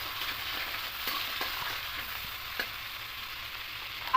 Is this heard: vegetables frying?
yes